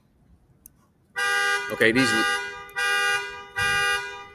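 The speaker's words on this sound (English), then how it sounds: "This fucking car alarm went going off." A car alarm blares outside in three loud, steady electronic bursts separated by short gaps, after a brief spoken word over quiet room noise.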